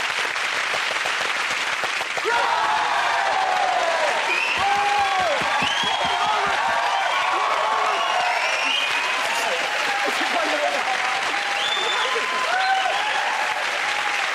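Sustained, loud applause from a television comedy panel show's studio audience, dense clapping filling the whole stretch with a few scattered voices mixed in.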